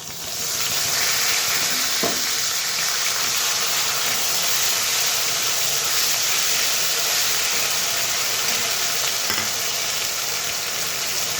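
Potatoes fry in hot oil with a ground spice paste for alu posto dalna, giving a steady loud sizzle and hiss throughout, with a couple of faint stirring knocks and no talk.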